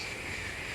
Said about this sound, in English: At 6:30 a.m., they watched the first train pass safely.